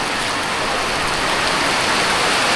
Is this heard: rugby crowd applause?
no